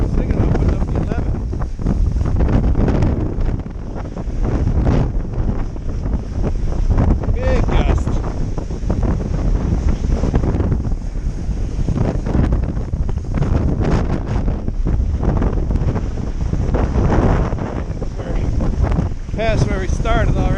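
Strong wind gust roaring over the microphone while kitesurfing with a 12m Switchblade kite on a Duotone Spike board, a loud continuous rush with water and board noise, and a voice speaking briefly.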